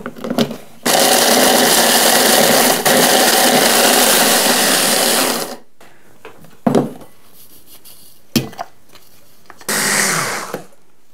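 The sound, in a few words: biscuits being finely crushed for a cheesecake base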